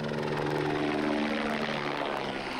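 A helicopter on a wedding-day joyride gives a steady, loud rotor and engine drone that holds constant throughout, with no voices over it.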